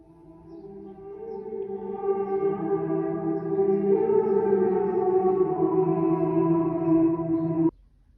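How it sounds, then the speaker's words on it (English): A sampled Estonian choir from the Orchestra Tools Tallinn library sings a sustained, swelling chord that holds for several seconds and then cuts off abruptly, with no other sounds around it. "a sample bank called Tallinn, made by Orchestra Tools, which samples Estonian choir singers"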